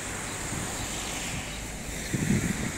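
Sea waves wash onto a sandy beach in steady, continuous surf mixed with wind noise on the microphone, with a louder surge near the end; no one speaks.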